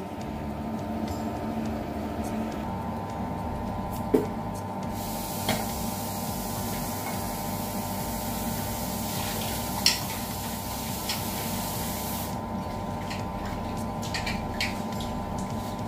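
Rice is rinsed for cooking in a home kitchen while chutney cooks nearby, with a steady wash of running water and faint clinks and taps, louder through the middle stretch.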